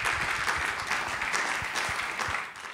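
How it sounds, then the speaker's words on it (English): A conference audience claps in a steady round of applause at the close of a casino games track session, dense and sustained throughout. "Quick round of applause of all the hard work for the organizers."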